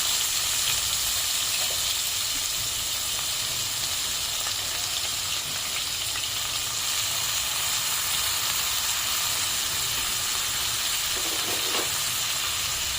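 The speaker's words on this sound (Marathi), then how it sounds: "आणि आता आपल्याला टाकायचं आहे कांदा त्याचबरोबर आपल्याला लगेचच टाकायचं आहे टमाटर" Chopped onion and tomato frying in a pan for a Kolhapuri-style home dish, giving a steady, close, bright sizzle with soft hiss that holds evenly throughout, no voices.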